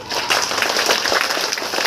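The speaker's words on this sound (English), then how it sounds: "Give yourself a very big clap" Children at a school opening ceremony clap together in a loud, dense burst of applause that runs steadily throughout, with no talking on top.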